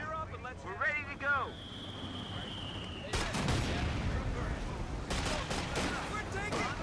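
Bursts of gunfire and battle noise from the World War II strategy game Company of Heroes 2, with game voices talking over the opening seconds before dense crackling volleys take over.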